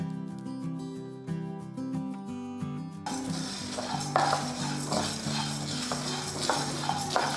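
Chana dal, toor dal and dried red chillies dry-roasting in a pan over low heat, with close, repeated scraping and rattling stirs and a faint sizzle, while music plays throughout.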